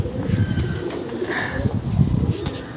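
Pigeons coo on a Karachi rooftop in soft, low, repeated throaty calls, close by, with faint background bird noise and a light murmur of voices.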